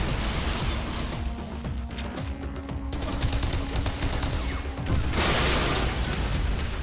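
Rapid automatic gunfire and booming explosions from the shooter video game Bodycount, dense bursts of shots layered over blasts, loud and continuous, with a heavy explosion near the end.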